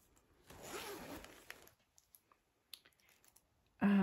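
A clothing zipper is pulled once in a short rasping sweep, then a few faint clicks and rustles follow before a sudden louder thump.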